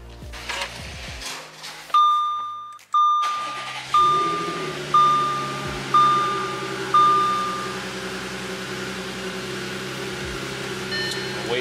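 An Audi S4 B8.5 engine settles toward idle after start-up, a low steady rumble under a repeating electronic chime that dings about six times before fading, the engine continuing alone.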